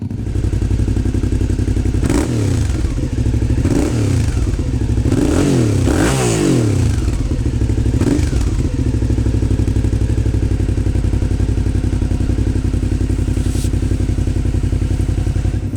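A 2019 Suzuki DL650 V-Strom motorcycle runs close by at a loud, steady exhaust idle, with several short throttle blips in the first half before the engine settles back to an even throb.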